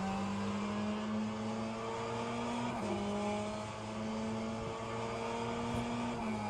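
LMP2 race cars in a racing video game, a steady engine drone with pitch shifting as cars pass, a brief whoosh in the middle, continuous and moderately loud with no talk.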